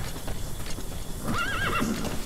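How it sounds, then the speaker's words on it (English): A horse whinnies with a rising, wavering call over steady clip-clopping hooves in Metal Gear Solid V: The Phantom Pain, the hoofbeats running throughout and the neigh loud and close in the second half. "Can I get my horse?"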